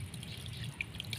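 Water poured onto a newly planted potted water apple tree in a shady spot, with a few light, bright drips and splashes over a soft trickling background.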